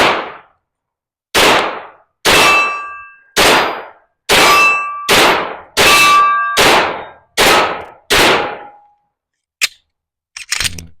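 Glock 17 Gen 6 pistol shots striking a steel target, about nine loud separate bangs each with a ringing metallic clang, spaced roughly a second apart, then a couple of fainter hits.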